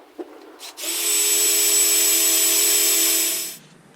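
A steady, high-pitched whirring and hissing of a power tool grinding an abrasive pad against a Kelly Perfect Jersey axe head, removing sandpaper marks, running continuously for a few seconds before stopping.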